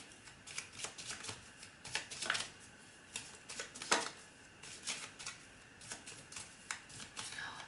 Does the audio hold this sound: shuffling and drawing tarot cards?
yes